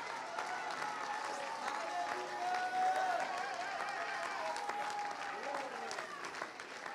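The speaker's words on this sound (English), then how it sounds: "Somebody clap, somebody shout, somebody lift up your voice, somebody dance" A church congregation applauds steadily in a sustained wash of clapping, with scattered shouts and a preacher's voice carrying over the crowd.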